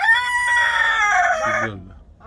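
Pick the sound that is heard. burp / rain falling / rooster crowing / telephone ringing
rooster crowing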